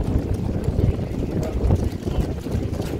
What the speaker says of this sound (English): At least the wind's drying the course.